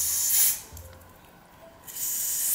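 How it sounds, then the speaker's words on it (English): Two short hissing bursts from a spray bottle spraying product onto wig lace, one at the start and another near the end, close and crisp with a quiet gap between. "And I try to spray more onto the lace than the actual hair"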